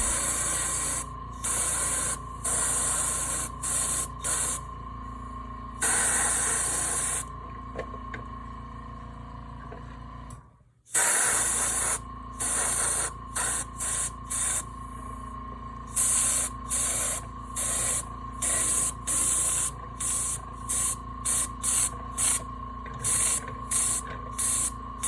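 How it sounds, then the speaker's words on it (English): An airbrush sprays primer in a steady loud hiss, broken into many short and longer bursts with one brief pause near the middle, close up and with no talking. "I happen to be using a airbrush primer, but this could be done out of a spray can as well."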